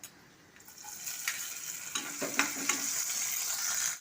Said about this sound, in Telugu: నేను ముందుగా పాన్లో నూనె వేసుకున్నానండి. ఇప్పుడు ఎండ్రాయిలు యాడ్ చేస్తున్నానండి.